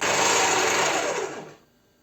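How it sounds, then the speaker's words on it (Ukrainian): Electric grinder mincing whole tomatoes for homemade tomato paste, a loud high whirring motor that runs steadily and then winds down and stops near the end, with no talking. "Перемелюємо всі помідори."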